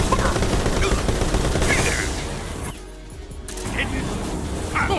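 Sustained automatic gunfire in the stealth action game Metal Gear Solid Delta: Snake Eater, a dense loud burst filling most of the clip with a brief lull near the middle and voices shouting over it.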